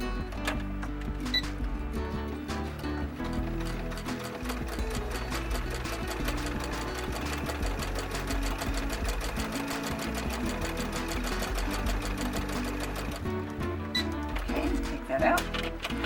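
A sewing machine stitches a fashion doll corset very close to its folded edge, running in a fast, steady mechanical patter for most of the stretch, up close, then stopping near the end.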